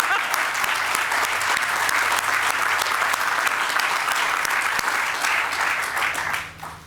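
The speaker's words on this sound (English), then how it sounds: "I think we can clap now." An audience claps warmly at the opening of the R. Wayne Lowe Synergy Innovation Center, a dense, steady round of applause that carries on for several seconds before tapering off at the very end.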